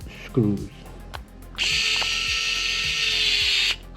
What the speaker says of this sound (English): Now you just tighten the long screws a bit